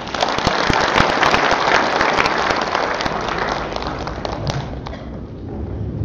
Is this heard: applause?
yes